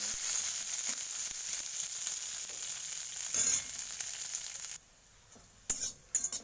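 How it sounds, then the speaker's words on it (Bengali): Steady oil sizzle of nigella seeds, garlic and chili frying in a pan, loud and continuous, with occasional stirring clicks before it briefly cuts out. "কালো জিরে রসুন লঙ্কা ভাজা হয়ে গেছে"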